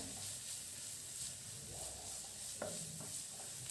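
Chopped ginger, garlic and green chili sauté in a hot pan with a steady, soft sizzle, broken by a few faint stirring scrapes.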